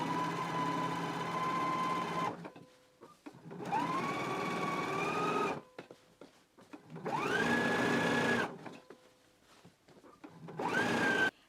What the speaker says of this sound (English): I'm going to go ahead and do my understitching now.